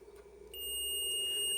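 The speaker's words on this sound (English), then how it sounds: "and I get a beep saying that there is continuity because they're touching together." A digital multimeter in continuity mode gives a steady, high-pitched electronic beep that starts abruptly and holds as the probes touch, over a faint hum.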